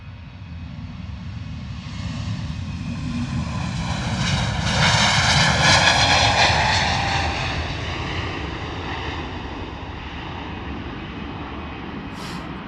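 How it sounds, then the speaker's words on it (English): A Gulfstream 650 business jet departs foggy London Luton Airport with a loud, sustained engine roar that swells to a peak midway and then slowly fades into the distance. "another BizJet departing Gulfstream 650"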